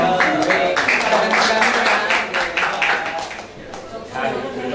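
Rhythmic group clapping at a cultural performance event in Aceh, steady and fairly loud under a speaking voice, tapering slightly toward the end as performers are welcomed in.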